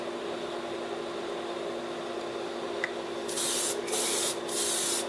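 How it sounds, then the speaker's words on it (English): An air compressor run at about 30 psi sprays in two loud hissing bursts near the end, following a steady background hum of fans. "I run the compressor at basically 30 psi."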